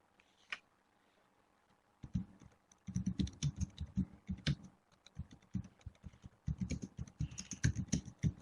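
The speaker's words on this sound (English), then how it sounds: "that's actually Gregor typing because we switched computers" Someone types on a computer keyboard in the middle of an astrophysics meeting, a quiet single click first, then a steady run of close, rapid key taps with brief pauses.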